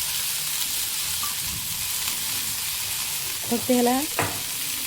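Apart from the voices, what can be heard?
bitter gourd frying in oil, stirred with a spoon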